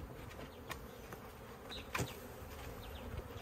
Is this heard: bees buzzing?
yes